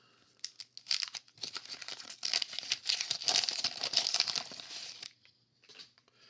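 Foil wrapper of a 1988 Donruss baseball card pack crinkling and tearing open, a dense run of close, crisp rustles and rips lasting several seconds before a brief pause and a final crinkle.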